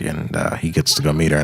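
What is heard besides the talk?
No everyday noises stand out.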